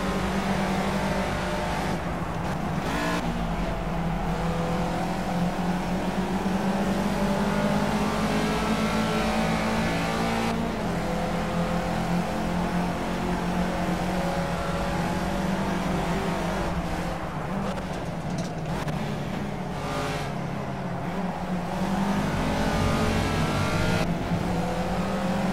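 Race car engine from the driving game Project Cars, a continuous loud drone that rises and falls as the car accelerates and shifts through gears, with no talk.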